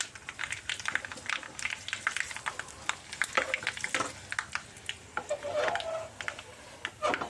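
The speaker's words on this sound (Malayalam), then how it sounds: "എരിവില്ലാത്ത കാശ്മീരി മുളക് പൊടി ഒരു ഇത്തിരി ഇട്ടിട്ട് ഒന്ന് മൂപ്പിക്കാം" Kashmiri chili powder roasts in hot oil, giving irregular crackling and spattering pops with light stirring scrapes, fairly close and modest in level.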